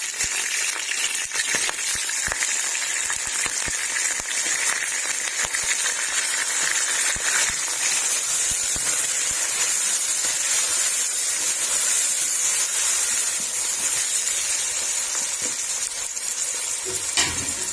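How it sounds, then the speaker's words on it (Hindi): Chicken pieces go into a pan of browned onions frying for dum biryani, giving a continuous bright sizzle and hiss of hot oil that holds steady throughout, close and fairly loud with no talking. "अब इसके अंदर हम चिकन ऐड कर देंगे।"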